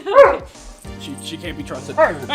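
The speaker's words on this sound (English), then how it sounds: "I apologize for the dog noise." A small excitable dog barks and yips up close, with short whimpering yelps in quick bursts, while a person speaks over it indoors.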